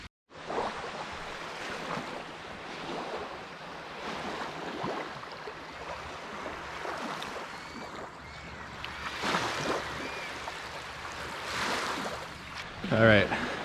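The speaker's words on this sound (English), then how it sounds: "there's the waves right there" Ocean waves wash onto a fog-covered shore before sunrise in a steady broadband rush, swelling louder around the middle and again near the end, with a brief sharp knock just before it closes.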